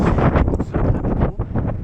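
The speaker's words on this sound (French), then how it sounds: "Il y a un vent incroyable" Strong, gusty wind on a mountain hike roars and buffets the microphone in loud rumbling surges, with no voices heard.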